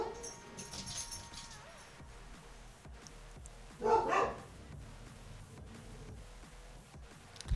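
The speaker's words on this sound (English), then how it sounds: "I gotta go see what the dogs are barking at." Dogs barking in the distance: one short, faint burst of barks partway through an otherwise quiet indoor background.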